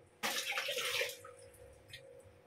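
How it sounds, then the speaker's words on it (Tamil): Water splashes and pours over a new clay pot being scrubbed and rinsed by hand, a loud burst of running water lasting about a second before settling into faint drips and trickles. "நீங்கள் நார் போட்டு நார்மலாக தேய்ச்சி வாஷ் பண்ணிக்கோங்க"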